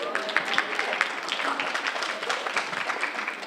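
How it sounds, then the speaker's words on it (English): An audience at a middle school orchestra concert claps steadily for the parents, a moderate, continuous patter of many hands throughout. "You can clap for your parents, please."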